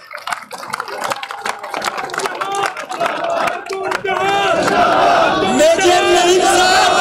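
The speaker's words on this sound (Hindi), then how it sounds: "तालियां बजाएंगे।" Crowd at a government employees' protest outside Parliament House in Islamabad breaks into clapping and cheering, scattered claps building into loud, sustained applause and shouting.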